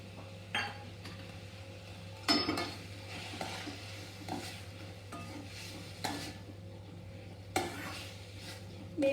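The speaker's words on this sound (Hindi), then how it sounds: "अब इसमें मैंने धो के रखी हुई मेथी भाजी डालेंगे और 1-2 मिनट फिर से सौते करेंगे।" Fenugreek leaves (methi) and corn being sautéed in a pan: a spatula scrapes and clinks against the metal at irregular intervals over a quiet, steady sizzle.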